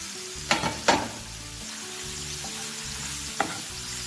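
Fenugreek leaves going into frying masala in a pan: a steady sizzle with a few sharp clatters of a spoon stirring, close and alone without talk.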